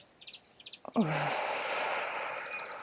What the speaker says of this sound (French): on va prendre une grande respiration.